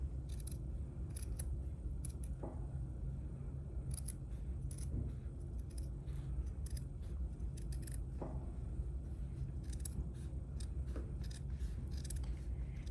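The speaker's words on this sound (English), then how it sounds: "I'm going to cut both layers at the same time" Cloth scissors cut through two layers of fabric for a homemade cat toy, giving close, crisp snips repeated in a steady rhythm with light scraping between cuts.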